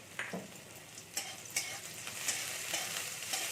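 Garlic and chopped green chilli fry lightly in a pan, giving a soft, fairly quiet sizzle broken by a few scrapes and taps of a stirring spoon.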